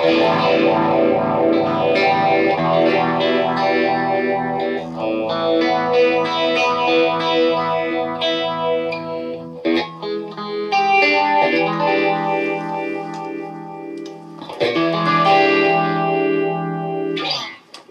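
Electric guitar chords ring out through a Phase Royal phaser pedal with its speed turned up, the sweep swirling quickly through the tone, playing alone without any talking.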